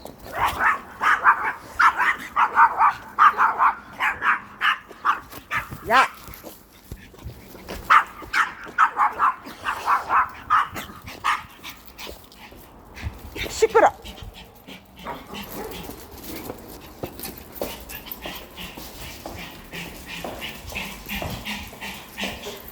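Three dogs bark, yip and pant excitedly in repeated bursts, close by, while a person talks in between.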